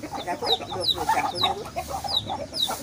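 A hen near a trap set for a rooster clucks repeatedly in short, uneven bursts, with faint higher chirps from other fowl close by and no speech.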